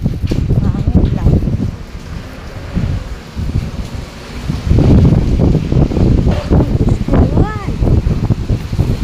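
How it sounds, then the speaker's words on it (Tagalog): Gusty typhoon wind in Kaohsiung, Taiwan buffets the microphone in loud, continuous rumbling waves that swell and dip, with a louder surge in the second half; no one speaks. "Hangin lang."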